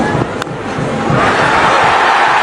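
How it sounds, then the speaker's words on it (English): A cricket crowd at St. George's erupts in loud, sustained cheering and roaring during an SA20 match between Joburg Super Kings and Sunrisers Eastern Cape, a dense continuous wall of noise. "the crowd has erupted here at St. George's"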